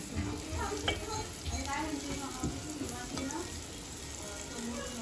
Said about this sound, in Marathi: त्यात थोडंसं तेल वाढवलं आणि मग त्याच्यात टाकायचं आहे बेसन